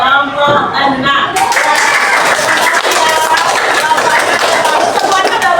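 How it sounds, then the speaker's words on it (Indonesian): Students in a classroom clap for a group, a dense patter of hand claps filling the room with voices mixed in. "Kita berikan tepuk tangan pada kelompok 6."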